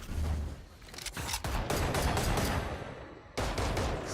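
Valorant gunfire during a VCT Pacific Kickoff esports match, with sustained rapid bursts of rifle shots and impacts layered densely, loud and continuous, then a short pause before firing resumes.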